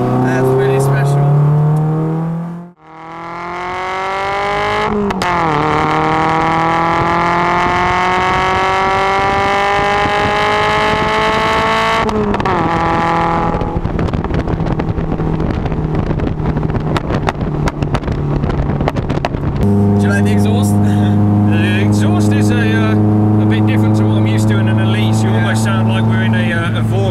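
A Lotus race car circulating on the Hethel test track, its engine note climbing through gears with sharp shifts and wind buffeting the microphone, loud and close throughout with brief drops between pulls.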